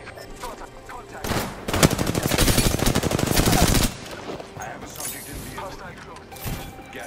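Sustained automatic gunfire in the Apex Legends battle royale game, a loud rapid burst of shots lasting a couple of seconds amid quieter game sounds and scattered single shots.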